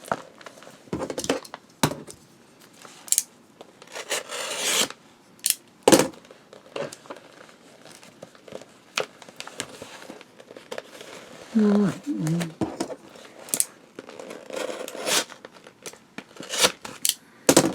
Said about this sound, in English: Let's just, what do you say, cut her open?